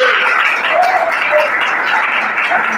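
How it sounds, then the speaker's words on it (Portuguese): A church congregation applauding during a sermon, steady dense clapping from many hands filling the whole short stretch at an even, fairly loud level with no talk over it. "Cadê glória a Deus e os aplausos?"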